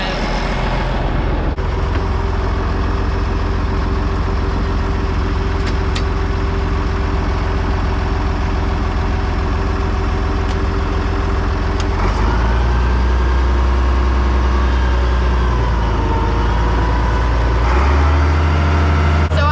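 Loaded truck's engine running steadily and loud throughout, with a deep idle rumble that shifts in pitch and load partway through as gears are tested; no talk.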